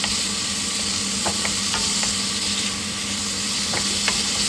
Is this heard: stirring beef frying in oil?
yes